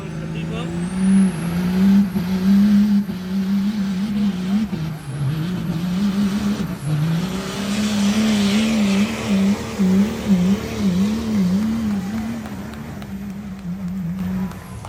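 An Outlaw class pulling truck at a fairgrounds truck pull in Anderson County, Tennessee roars loud and close, its engine droning steadily and wavering in pitch as it revs and bogs, with crowd noise and a talking announcer mixed in.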